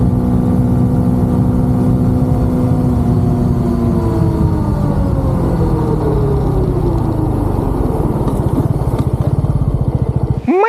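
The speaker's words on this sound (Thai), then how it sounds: "เสียงหอนของยางครับ" A Yamaha PG-1 motorcycle's engine drones steadily while riding, loud and continuous, with a rising whine of tire howl running through it and shifting pitch as speed changes.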